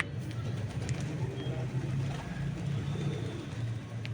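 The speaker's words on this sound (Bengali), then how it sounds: "দেখো কত পায়রা চলে এসছে, আর দেখো একসাথে সব খাচ্ছে" Pigeons gathering to feed together, with low soft cooing and bird murmurs running steadily through the scene over a constant background hum, and a few faint higher chirps on top.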